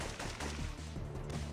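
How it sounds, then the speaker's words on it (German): Gunfire from the PlayStation 1 action game Syphon Filter crackles faintly in rapid bursts, a dense stream of distant shots running through the whole moment without speech. "Warum höre ich da wieder Schüsse?"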